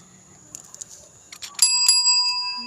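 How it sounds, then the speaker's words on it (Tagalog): A bicycle bell rings once, close and bright, its metallic tone lingering and fading over the final second after some faint handling noises. "Bell."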